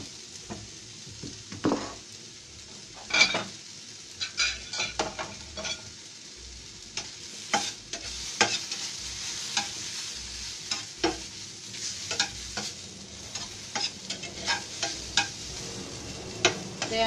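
Apple pieces sizzle in butter in a pan as they turn golden, with a continuous frying hiss broken by frequent scraping and stirring clatters from a utensil, and no one talking.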